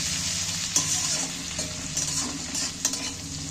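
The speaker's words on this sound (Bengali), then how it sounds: "এইগুলোকে একটু ভেজে নেবে।" Steady sizzling of ginger and green chilies frying in a hot pan, with a few scraping stirs of a spatula against the metal, fairly close and continuous.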